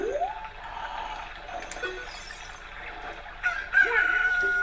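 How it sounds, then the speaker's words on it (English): A freshly hatched chick crows in Ocarina of Time, a short shrill rooster call late in the clip over gentle in-game background music. "Look, a chicken hatch for the egg you were incubating."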